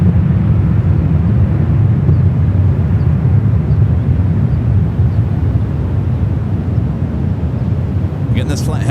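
A United Boeing 757-200 departing San Francisco airport for Boston: a loud, steady, deep jet engine roar that holds close and unbroken and eases slightly near the end.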